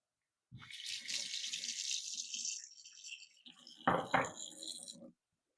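Water runs from a kitchen tap over raw turkey meat being rinsed in a sink, a steady splashing rush with a few clattering knocks partway through before it shuts off.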